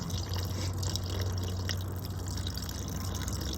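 Leftover oil draining from a weathered 1986 K10 engine that sat outdoors for months, heard as a steady, close trickle of liquid with faint dripping, continuous and without any talk.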